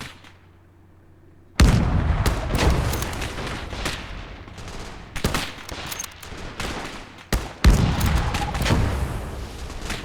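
Battlefield gunfire in the war game Call to Arms: Gate of Hell erupts suddenly after a quiet opening, with dense rifle and machine-gun fire and heavy booms continuing, including several sharp, loud bursts.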